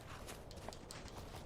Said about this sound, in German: Was für ein schönes Pferd.